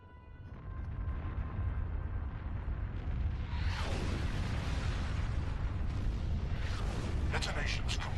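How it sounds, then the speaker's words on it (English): A sphere detonates in the Star Trek Online game, heard as a sustained, loud rumbling blast that swells and roars for several seconds, with rising hissing and crackling debris toward the end and a low continuous rumble underneath. "That was more of an implosion than an explosion."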